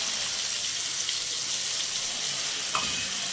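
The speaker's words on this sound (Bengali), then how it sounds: "জলে গুলে একটা পেস্ট বানিয়ে রেখেছি, ওটা ঢেলে দেবো।" A spice paste of salt and coriander powder mixed in water hits hot oil for a fish curry with potato and pointed gourd, producing a dense, even hiss that continues steadily.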